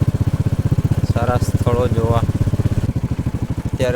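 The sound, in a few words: motorcycle engine while riding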